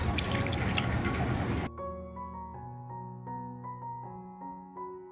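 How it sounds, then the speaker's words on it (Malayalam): Water is poured from a cup onto grated coconut in a kitchen, a steady splashing pour for about a second and a half, then a series of small drips and settling tones. "ആവശ്യത്തിനുള്ള നോർമൽ വാട്ടർ ഒഴിച്ചു കൊടുക്കാം."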